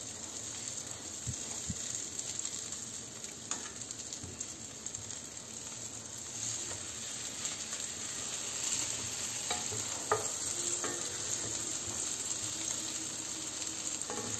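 A pita omelette cooks in a frying pan, and a steady, moderate sizzle holds throughout with a few faint clicks from the pan.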